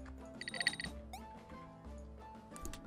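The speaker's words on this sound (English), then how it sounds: "I'm gonna put my phone on vibrate there" A mobile phone rings nearby with a quiet electronic ringtone, bursts of high trilling, chiming tones repeating over a few seconds amid faint background sounds.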